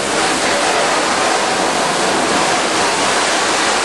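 Water pours steadily through a degassing tower at a chum salmon fry hatchery, a loud, close, unbroken rushing hiss like a small waterfall, with no voices.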